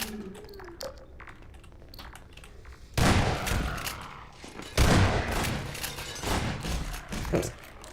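Automated turret gunfire in Half-Life 2: Episode One, dense rapid bursts of shots that swell loudly in two surges over a steady game background, without talk.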